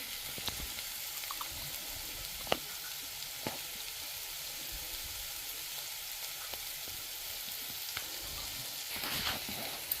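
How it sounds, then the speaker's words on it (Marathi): Onion frying in a pan in a home kitchen, a steady low sizzle running throughout with a few soft clicks and scrapes of stirring, fairly faint and with no talk. "कांदो घायलो आनी मातशें बरो तळशिवपाचो."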